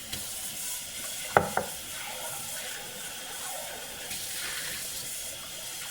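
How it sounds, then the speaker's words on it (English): Water from a cooking pot is poured into a strainer in a home kitchen, making a steady rushing splash with a couple of brief clanks of the pot near the start. "So I'm going to pour this here in the strainer, like so."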